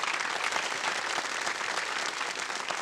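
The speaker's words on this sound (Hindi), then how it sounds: "तो एक बार फिर तालियों के साथ आपका अभिनंदन करते हैं।" Studio audience applause on a Hindi TV quiz show, a steady, dense wash of clapping that fills the whole stretch without pause and with no talk over it.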